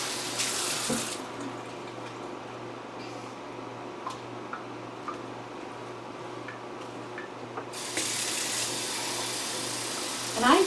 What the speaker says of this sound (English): Now I'm going to get some water. Rinse my hands in.